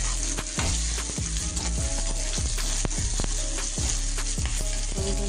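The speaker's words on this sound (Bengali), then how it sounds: "এই যে পেঁয়াজটা আমি ভেজে দিয়েছি কড়াতে তেল দিয়ে।" Onions fry in oil in a wok, giving a loud, steady sizzle throughout, with repeated spatula scrapes and knocks against the metal.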